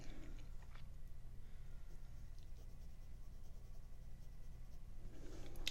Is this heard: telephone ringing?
no